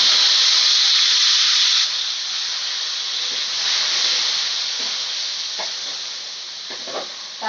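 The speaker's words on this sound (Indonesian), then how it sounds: "Karena minyaknya sudah panas, saya coba masukkan kacang" Steady loud sizzling hiss of peanuts frying in hot oil, continuous throughout, with a few faint clinks near the end.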